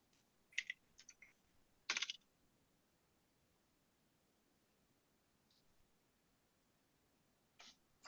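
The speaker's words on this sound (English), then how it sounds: "I heard some typing, but I did not get a message yet." Short bursts of clicky computer keyboard typing during an online quiz game, a few quick keystroke clusters near the start and one more near the end, faint against a quiet room.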